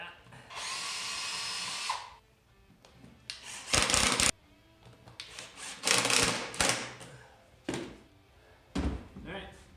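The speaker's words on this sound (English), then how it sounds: "Re-drill that." A power drill whirs in several short bursts, re-drilling screws into the wooden boards of a guitar side bending mold, with clattering handling and clamp knocks between the loud close-up runs.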